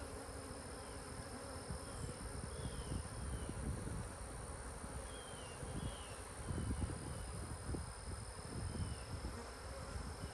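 Honeybees buzz steadily around a hive in an apiary, a close, continuous drone with individual bees passing by, heard alone over soft outdoor ambience.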